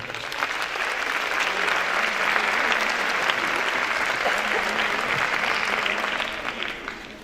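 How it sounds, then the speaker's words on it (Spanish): Sustained audience applause welcomes a speaker at a conference on non-caloric sweeteners, a steady dense clapping that swells then slowly tapers off toward the end. "Recibámonos con un fuerte aplauso."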